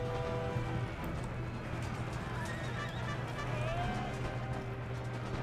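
Horses of a cavalry regiment in the video game Empire Total War, a steady wash of galloping hoofbeats with occasional whinnies over continuous battlefield noise, filling the whole stretch at a constant level.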